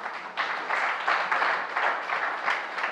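Church congregation applauding the Lord in a French-language service, a burst of rhythmic group clapping in steady pulses, fairly close and loud, with no talking over it.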